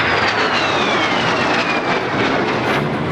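A basic training aircraft flying a handling demonstration at the Tyabb airshow, a loud continuous engine roar passing close overhead with a slowly falling whine, no talk.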